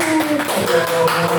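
Group clapping during a children's church service at a birthday celebration for a teacher, a brief, close burst of hand claps with tonal sounds lingering underneath.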